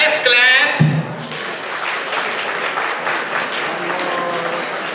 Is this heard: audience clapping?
yes